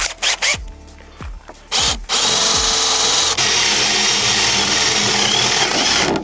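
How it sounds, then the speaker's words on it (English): A large power drill bores a hole through a snowboard for a brake, starting with a few short bursts and spin-ups, then settling into a loud, steady whirring grind that runs continuously to the end. "And now we use this big guy to drill where the brake's gonna come through."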